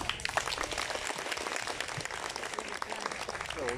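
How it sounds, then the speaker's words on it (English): Applause at the ASEAN Tourism Forum 2022 closing ceremony at Sokha Beach Resort, Cambodia, as Indonesia is named the next host, steady crowd clapping with individual claps audible and no talk over it. "Please give a big applause to Indonesia."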